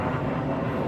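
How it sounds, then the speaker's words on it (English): A fixed-wing airplane drones steadily overhead, a continuous broad engine roar that stays even in loudness throughout, heard alone with no talking. "Uh-oh, suspicious airplane."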